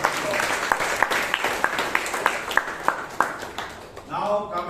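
Participants at a Toastmasters meeting applaud, a handful of hands giving a thin, somewhat sparse run of claps with a distinct clap standing out every moment or so, before a voice begins speaking at the end.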